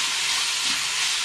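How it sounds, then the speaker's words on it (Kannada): Vegetables frying in oil for vegetable bath give a brief, dense, even hiss of sizzling heard up close and alone. "ತರಕಾರಿ ಎಣ್ಣೆಯಲ್ಲಿ ಚೆನ್ನಾಗಿ ಸ್ವಲ್ಪ ಫ್ರೈ ಆಗಬೇಕು,"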